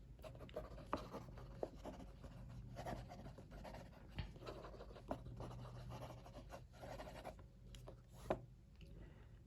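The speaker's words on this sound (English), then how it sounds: "I'm going to go straight into the fast writing." Faber-Castell Ambition fountain pen writing fast on paper, a faint, close, continuous scratchy rasp broken by quick strokes and small taps as the nib moves across the page.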